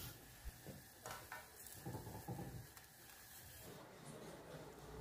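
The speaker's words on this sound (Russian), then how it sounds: "Затем готовлю баклажаны на гриле." Eggplant slices sizzle faintly and steadily on a grill, with a few soft scraping or turning sounds mixed into the hiss.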